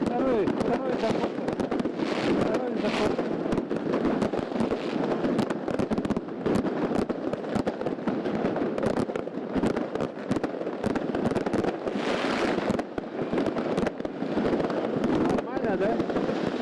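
New Year's night fireworks and salutes burst on all sides over the city of Yakutsk, a continuous crackling, booming barrage with distant and nearer explosions under wind noise, while a person talks throughout.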